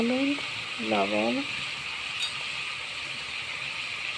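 Duck meat is stirred and fried in a pan, giving a steady close sizzle with a brief voice at the start and light scraping under the frying.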